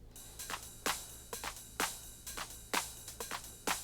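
A Roland TR-909 drum machine loop plays quietly, with crisp snare-like hits and ticking hi-hats in a steady, repeating pattern.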